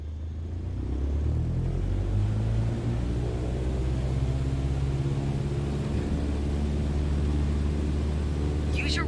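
A light airplane in a flight simulator throttles up to full power for takeoff, its engine drone steady and rising in pitch as it accelerates, loud and continuous throughout.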